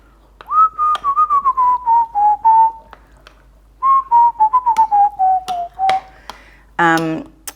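A person whistles a melodic tune in short, clear notes, pausing midway and ending with a sliding warble, close and loud while preparing food in a kitchen, with light taps and clicks between phrases.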